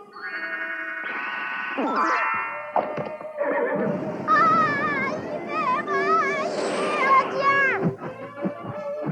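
A cartoon flying horse, transformed from a bicycle in the 1986 Dennis the Menace animated series, whinnies loudly in long, wavering, high-pitched cries, mixed with cartoonish clattering effects.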